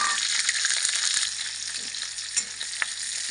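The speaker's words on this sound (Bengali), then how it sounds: "তেল গরম হয়ে গেছে পেঁয়াজটা দিয়ে দেবো" Onions sizzle and crackle in hot oil in a pan for Bengali red spinach fried with garlic, a steady close frying hiss with small pops and no talk.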